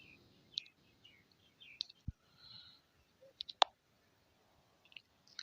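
Sparse, faint mouse clicks on a quiet desk while confirming a registration, arriving as a few isolated sharp ticks spread irregularly over several seconds with near silence between.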